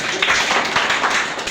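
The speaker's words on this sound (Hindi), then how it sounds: "शाबाश, इसके लिए जोरदार तालियां।" Loud, close applause from a classroom of children, a dense burst of rapid clapping that lasts the whole short moment.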